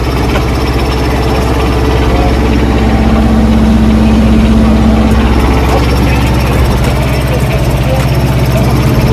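A Kubota mini excavator's diesel engine idles at close range, a steady loud rumble with constant vibration throughout.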